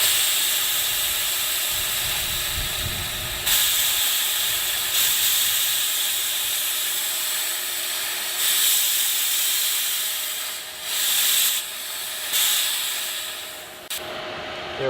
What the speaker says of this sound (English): open your release valve down here. Let some of the extra pressure blow out.